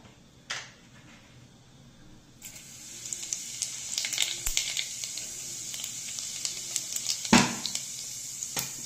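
Cumin seeds dropped into about half a cup of hot oil in a pot, bursting into a steady crackling sizzle that rises after a quiet start and keeps popping with small spatters, one sharper clatter near the end.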